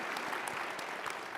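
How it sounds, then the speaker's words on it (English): Audience applause at the 2023 business summit on trust in the digital economy, a steady dense clapping wash from a seated crowd, even in loudness throughout the short burst. "round of applause for that"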